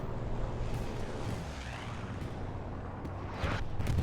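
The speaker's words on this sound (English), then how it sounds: "Lovely explosion." A bombing-run explosion in the World War II shooter Hell Let Loose on the Utah Beach map, heard as a heavy, continuous low rumble with crackling debris, swelling again near the end.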